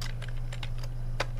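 Typing on a computer keyboard while entering 6502 assembly code: several quick, close key clicks in an uneven rhythm over a steady low electrical hum, with no talking.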